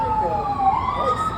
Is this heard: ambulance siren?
yes